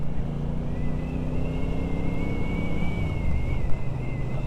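A 2024 Speedmaster 1200 motorcycle engine hums steadily while riding, with a continuous low rumble and a sustained higher whine under buffeting wind noise.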